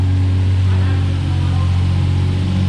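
A Nissan 370 fitted with an aftermarket exhaust idles loudly and close by, a steady deep rumble that holds without revving.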